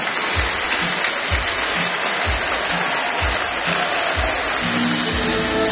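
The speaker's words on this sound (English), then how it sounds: "A round of applause, ladies and gentlemen." Crowd applause at a Save the Children centenary celebration in Nigeria, a continuous hiss of clapping with a steady low thumping beat beneath it, loud and unbroken across the stretch.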